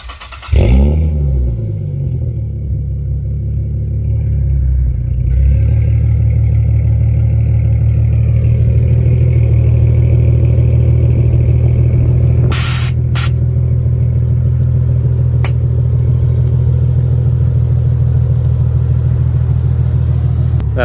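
A Nissan 370Z started by remote start cranks and fires up, then settles into a loud, steady close-up idle rumble, with a few brief clicks partway through and no talking.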